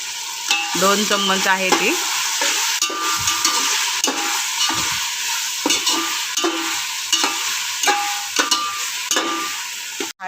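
Coarse paste of coriander, green chili, garlic and ginger frying in a pan for prawn biryani, with continuous loud sizzling and rhythmic stirring scrapes; someone talks briefly over it.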